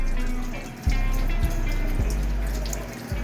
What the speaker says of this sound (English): After a few seconds, water starts running.